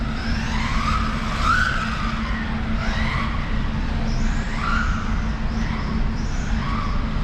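A 1/16 brushless RC car drives indoors on carpet, its motor whining steadily while the tyres give repeated short skidding squeals as it slides side to side.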